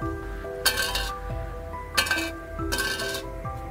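Aerogel, a solid that is 99% air, dropped onto a hard surface, giving three bright, ringing metallic clinks, each with a short resonant tail, like an empty can striking steel, with no talk.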